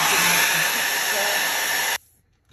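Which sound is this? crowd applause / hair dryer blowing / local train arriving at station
hair dryer blowing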